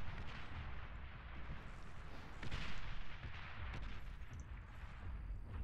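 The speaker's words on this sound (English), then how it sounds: "Some good artillery." Artillery shells firing and booming in the real-time strategy game Beyond All Reason during an 8v8 match, a dense continuous rumble of distant blasts that swells in the middle, with no talk.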